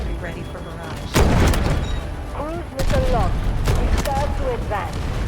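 An artillery barrage in the video game Delta Force Hawk Ops, with two big booming impacts and a stretch of rumbling blasts between them, while faint radio-style voice chatter sits underneath.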